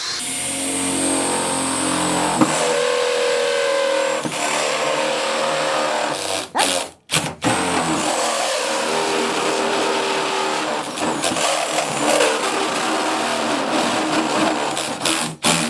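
A power drill with a Unibit step bit bores a slot into a Volvo steel fender, giving a loud, steady grinding whir that briefly cuts out near the middle before resuming.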